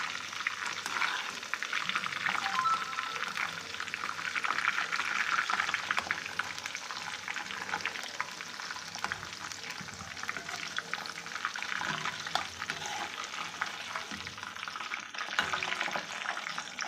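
Mint leaves frying in hot oil for a puffed-rice chivda, a steady dense sizzle and crackle running close and even throughout with no talk.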